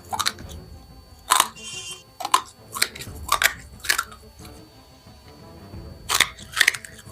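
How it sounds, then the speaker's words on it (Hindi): A man chews and crunches glass bangles, sharp bursts of brittle cracking and grinding repeating irregularly, close and loud, over a steady background hum. "ये देखिए लगातार बाबा जी जो कांच की चूड़ी खा रहे हैं।"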